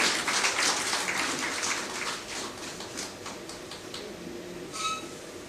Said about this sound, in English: Join me with a round of applause in welcoming